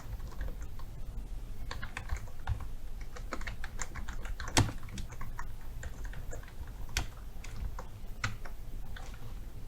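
A name is typed on a computer keyboard, with rapid, continuous key clicks over a low background hum, up close and steady, with a few louder keystrokes and no talking.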